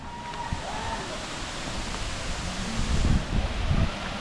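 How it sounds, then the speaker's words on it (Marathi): Savdav waterfall in Kankavli, Konkan, roaring as a steady broadband rush of falling water, close and continuous, with faint voices and some low rumbling bumps underneath. "हा बघा सावडाव धबधबा"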